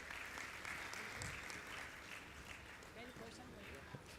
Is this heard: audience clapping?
yes